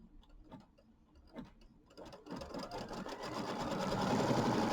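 A sewing machine stitches quilt block pieces, beginning with scattered handling clicks and taps, then building into a steady, loudening run of rapid needle stitching.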